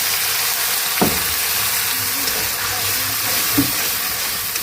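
Ground masala sizzles in a pan over browned fried onions for a tengra fish and potato curry, a soft continuous frying hiss broken by two brief clinks of a spoon.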